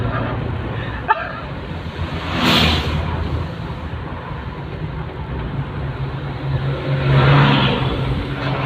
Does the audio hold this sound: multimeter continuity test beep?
no